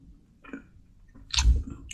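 Soft, wet chewing close to the mouth on chocolate-filled strawberry, a few squishy bites with a louder moist crunch near the end, otherwise quiet.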